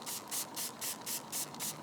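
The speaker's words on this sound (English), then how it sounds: "So once again, just gonna spray that down." Alcohol sprayed from a hand pump spray bottle while fitting paint protection film to a Ford Bronco Sport lower rocker panel: about seven short hissing bursts in a steady rhythm, close and clear, with no talking.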